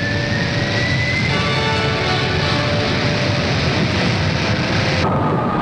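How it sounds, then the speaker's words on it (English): A 1953 F-100 Super Sabre, the Air Force's first supersonic jet fighter, roars loudly and steadily as it takes off, a continuous broad jet blast with no voices. "The Air Force's first supersonic jet fighter, capable of low-level flight faster than sound,"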